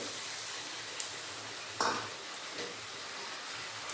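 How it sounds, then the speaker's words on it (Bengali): Spice paste with tomato, onion, ginger and garlic for a mutton curry sizzles steadily in a pan, with a soft continuous fry hiss broken by a few brief stirring scrapes. "ভালোভাবে মশলাটা ভেজে নেব পেঁয়াজ আদা রসুনের সাথে"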